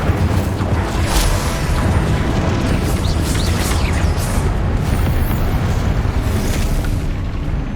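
The Incendio fire spell in Hogwarts Legacy lets loose a loud, dense whooshing roar of flame that holds steady for several seconds, with brief crackling pops over the top.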